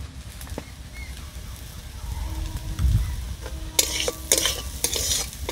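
Egg curry with chili powder stirred in a pan, a steady sizzle under low rumbling, then a run of sharp spoon scrapes against the pan near the end, close and clear with no talking.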